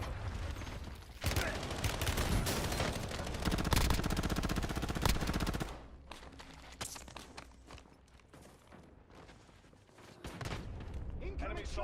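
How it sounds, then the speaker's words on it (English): Dense automatic gunfire and rapid shots from a war video game, a loud sustained burst for several seconds, then scattered cracks and a renewed volley, with voices speaking at times. "Incoming Enemy shots!"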